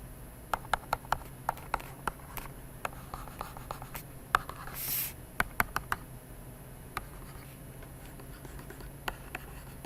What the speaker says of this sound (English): I'm going to draw the exact same alkene.